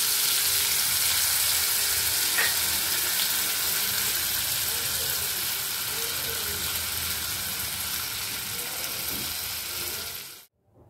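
Butter sizzles as it drops into hot oil for a tadka, a steady close crackling fry that runs continuously and cuts off near the end.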